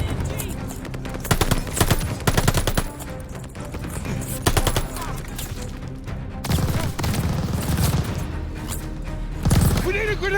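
Rapid bursts of heavy machine-gun fire from a tower position in the video game Call of Duty: Vanguard, loud repeated volleys with booms and impacts, and shouting voices mixed in throughout.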